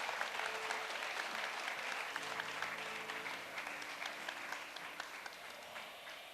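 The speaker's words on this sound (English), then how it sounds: "Give her a round of applause," An audience at an indoor event gives sustained, even applause, dense clapping heard at a distance with faint murmured voices underneath.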